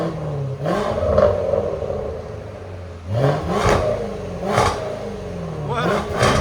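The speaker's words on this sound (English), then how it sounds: "Come on, rev it like this." Supercharged 5.0-litre V8 of a 2022 Range Rover SVR with X-pipe and resonator delete, revved in a shop in several rising blips separated by idle, loud and close, with people talking between revs.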